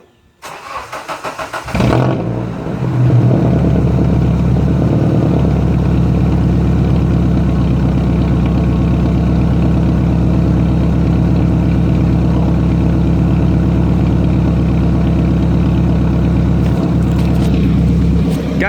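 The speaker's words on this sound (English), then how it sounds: "now I'm gonna start the car. I'll find something to lean the camera against so we can hear what this thing sounds like." A Nissan S14 engine cranks and catches after about two seconds, then settles into a steady, loud, low idle that runs uninterrupted close to the car, no one talking over it.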